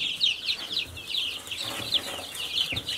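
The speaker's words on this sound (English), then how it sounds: "what I've got here is 25 laying birds, which means they specialize, or they were bred, to lay eggs very well, and 25 meat birds" A flock of chickens, laying hens mixed with fast-growing meat birds, clucks and squawks continuously at close range, overlapping calls with occasional wing rustles and no talking.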